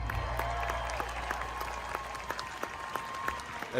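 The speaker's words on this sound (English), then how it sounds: "I'm clapping for myself" A single person claps for himself, a steady run of fairly even claps at close range under a faint low hum, moderately quiet throughout.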